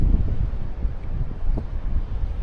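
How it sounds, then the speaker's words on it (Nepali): Strong wind blows outdoors in Canberra, a steady low buffeting rumble with gusts, heard alone and close. "यहाँ चाहिँ दामी हावा चल्दो रहेछ"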